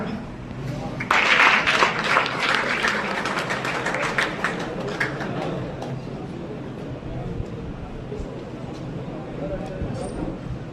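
A burst of crowd clapping starts, rises briefly, then fades out, leaving room noise and some talking.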